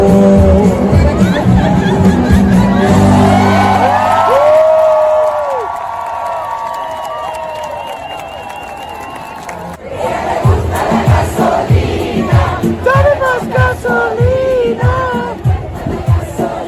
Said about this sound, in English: Everybody's cheering each other on.